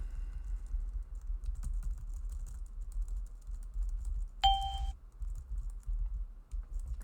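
Fingers type steadily on a computer keyboard during a game, a dense run of soft clicking keystrokes throughout, with a brief bright chime from the game partway through and no talking.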